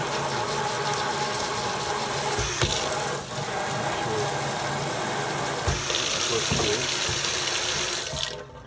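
Tap water runs steadily from a dual-handle Moen faucet into a sink, a continuous rushing gush with brief handling knocks partway through before it cuts off near the end.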